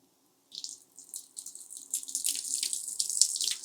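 Water poured into about 2.5 gallons of dry seed starting mix to hydrate it, a gentle splashing trickle that begins after a short silence and grows steadier and fuller, close by with no talking.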